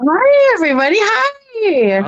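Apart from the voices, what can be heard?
cat meowing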